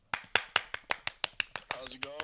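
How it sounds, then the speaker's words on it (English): About a dozen sharp, evenly spaced hand claps ring out close by for a first guest caller on a show, and a voice starts talking as the last claps sound. "Let's give a round of applause for the young man."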